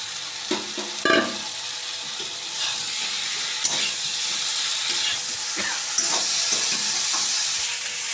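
Fried cauliflower tossed into masala in a pan for a malai curry sizzles steadily, with a few sharp clanks and scraping stirs near the start, then a continuous hiss.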